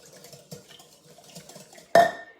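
Pancake batter with vanilla being mixed in a bowl, soft scraping and tapping strokes followed by a sharp clink of utensil against the bowl near the end.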